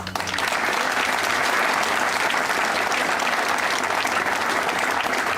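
Sustained applause from an audience at a military brigadier general's promotion ceremony, a dense, steady roar of many hands clapping at even volume throughout, with no voices standing out.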